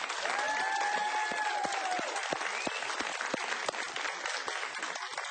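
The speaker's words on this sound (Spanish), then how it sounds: "Un aplauso para el Perú." Applause from a television studio audience during a Spanish-language talk show monologue: dense, steady clapping throughout, fairly quiet overall, with a few faint tonal whistles or cheers mixed in near the start.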